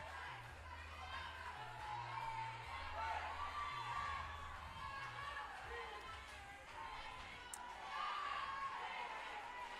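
A large crowd cheers and whoops steadily for Patrice London of Garner, North Carolina, at the Burn Boot Camp Athlete Games 2023, with children shouting and general chatter filling the arena throughout.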